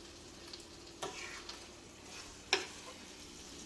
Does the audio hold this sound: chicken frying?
yes